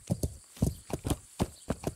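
Hooves of a horse clip-clop at a steady walking pace in the medieval game Kingdom Come: Deliverance, crisp paired thuds repeating close and clear for two seconds with no talk over them.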